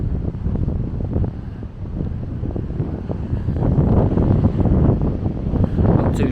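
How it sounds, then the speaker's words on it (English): Strong wind buffets the microphone in a steady, rumbling roar, with faint surf-like wash underneath and no voices, at Eleven Mile Beach in Western Australia. "It's a bit windy and it's a bit chilly"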